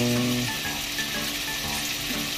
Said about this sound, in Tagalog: ilagay na natin tong karne hanggang maging golden brown po